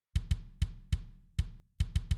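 Sampled kick drum one-shot from an emo/pop punk mix, about eight tight, punchy hits in a loose rhythm with brief pauses, each with a sharp click and quick boomy decay, heard alone.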